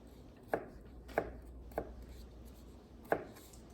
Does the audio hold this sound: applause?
no